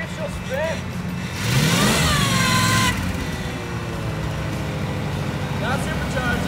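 A Ford Bronco fitted with Holley Sniper EFI cranks and revs up, giving a rising engine roar that holds steady near the mic, while people talk over it.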